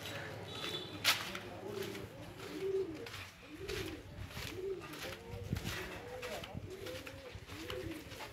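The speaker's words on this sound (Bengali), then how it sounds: "এই চারিদিকে পায়রা বসে কুঁ কুঁ কুঁ কুঁ।" Pigeons coo softly and repeatedly all around a gate area on a Bishnupur sightseeing day trip, low rolling calls recurring over steady outdoor ambience, with a voice talking at times.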